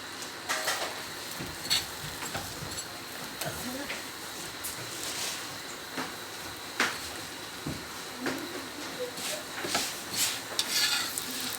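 A paratha sizzles quietly in ghee on a pan, a soft continuous frying hiss broken by occasional clinks and scrapes of utensils, with a voice speaking over it now and then.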